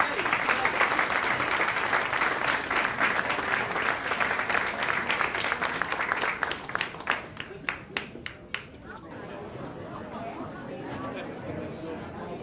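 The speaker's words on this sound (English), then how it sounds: "Let's give another round of applause for Ebony Gilbert." Dense applause from a jazz event audience fills the room, then thins into scattered claps and fades into murmuring chatter.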